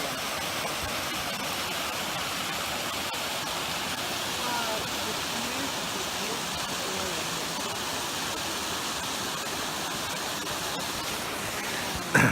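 The waterfall at the top of King's Cascades, where a small creek begins its drop, roars in a steady broadband rush, close and continuous, with no voices over it.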